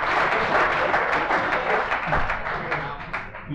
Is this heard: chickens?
no